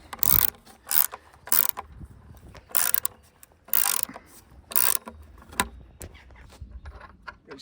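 A metal eye hook is twisted into a wooden garden swing frame, giving a run of short, sharp metallic clinks and ratcheting scrapes in irregular bursts, close and fairly loud with no talking.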